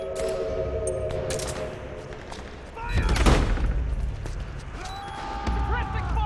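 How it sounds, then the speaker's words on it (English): Automatic gunfire rattles in bursts during a Metal Gear video game battle at a mansion, a loud crackling fusillade that swells midway, with shouted voices over the shooting. "Suppressing fire!"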